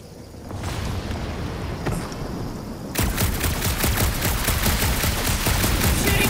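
Rapid gunfire fills the Guardians of the Galaxy video game scene, starting moderately and becoming a dense, loud, continuous volley partway through.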